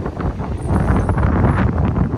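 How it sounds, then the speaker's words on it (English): Gusty wind buffets the microphone with a rough, low roar that rises and falls. "It's very windy today"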